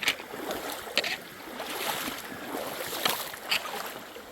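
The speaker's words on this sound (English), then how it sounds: "There's the creek." Indian Creek flowing past a hiking trail crossing on the Ozark Trail in the Current River section, a soft steady rush of water with a few sharper splashy bursts, moderately near and without talk.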